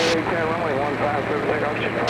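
A T-6 Texan airplane in flight, its engine a steady close droning hum filling the cockpit throughout, with someone talking over it.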